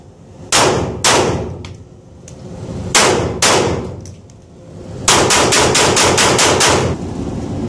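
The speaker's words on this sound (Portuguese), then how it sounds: "Dois tiros, mão forte, dois tiros, mão fraca" Pistol gunshots at a shooting drill: two sharp pairs of loud, close shots with a pause between, then a rapid string of about ten shots fired in quick succession, with metallic ringing between reports.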